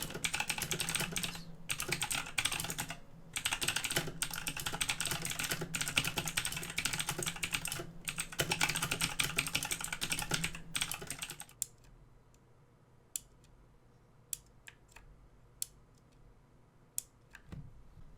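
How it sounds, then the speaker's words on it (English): Typing on the keys of an M-Eagle Z77 RGB gaming keyboard with double-shot injection keycaps and a plastic base: a dense, fast run of close clicky keystrokes for about eleven seconds, then a few sparse, isolated key presses in near silence. "Here's a typing test of what the keys sound like."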